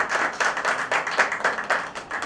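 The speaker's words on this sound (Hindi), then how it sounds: "एक बार ज़ोरदार तालियां चाहूँगा" An audience claps at a tribute music evening: a short run of quick, fairly loud clapping with clear individual beats rising and falling in rhythmic bursts.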